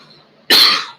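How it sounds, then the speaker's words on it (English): A single sharp, loud cough bursts out after a moment of near silence, then trails off. "or a coughing fit or whatever"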